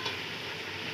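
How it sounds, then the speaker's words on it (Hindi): Chicken pieces go into a hot frying pan for restaurant-style chicken pulao, giving a dense, steady sizzle close up with no talking. "हमारा भून गया है, अब हम इसमें चिकन को डाल दें"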